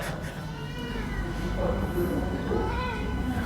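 A cat meows several times in a few drawn-out, rising and falling cries, heard under someone talking during an Islamic lecture.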